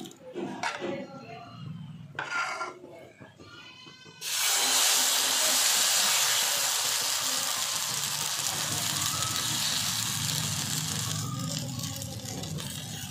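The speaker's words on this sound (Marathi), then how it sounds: "अशा पद्धतीनं उत्तप्पा घालायचा आहे, ह्याला वरून तेल सोडायचं आहे व 2 ते 3 मिनिटं छान भाजून घ्यायचं आहे।" Rava uttappa batter hits a hot oiled tawa and bursts into a loud, sustained sizzle that slowly eases, preceded by a few seconds of quieter kitchen clatter and spoon sounds.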